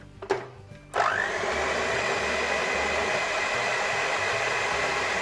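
Electric mixer beating walnut and coffee cake batter switches on after a couple of faint knocks, then runs as a loud, steady whirring motor hum, close by, with no talking.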